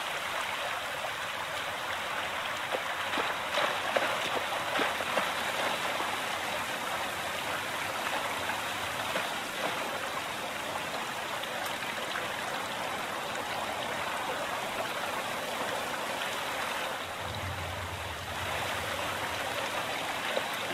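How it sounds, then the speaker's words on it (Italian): Steady hiss of heavy rain in The Last of Us Part 1 on PlayStation 5, a dense continuous wash of falling water with a brief low rumble near the end, no talk. "Questa pioggia non va bene."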